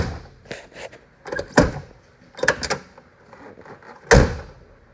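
Door of an older Ford truck being shut repeatedly: several solid, sharp thuds spaced across the clip, close and fairly loud, with light rattling between them and no talk.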